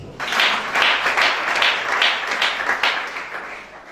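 A church congregation claps and cheers in sustained, dense applause that swells in waves and fills the whole stretch, with no speech over it.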